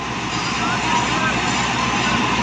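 A New Holland 480 tractor engine runs close by in a Punjab wheat field, a steady broadband diesel rumble and roar holding at an even level throughout, with no breaks or changes in pace.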